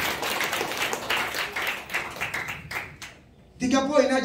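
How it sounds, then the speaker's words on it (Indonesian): A church congregation claps in quick rhythmic bursts while a preacher's voice carries over them; the clapping thins out and a louder voice follows at the end. "Beri tepuk tangan bagi Tuhan."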